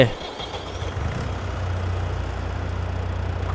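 A small walk-behind tractor engine from a farming simulator game chugs and idles steadily at close range, with a low, even motor drone that holds throughout.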